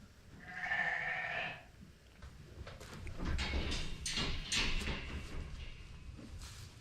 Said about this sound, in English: When you hear that, her grunting, the pushing